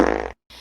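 A short comedic fart sound effect: one loud, buzzing blast lasting about a third of a second, then a brief silence and a fainter, softer tail.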